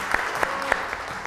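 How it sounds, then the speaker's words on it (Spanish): Applause from an audience at a folk music performance in Villa del Carmen, San Luis, Argentina, a steady wash of clapping with a few sharper claps standing out, moderately loud throughout. "Aplausos para el Enzo."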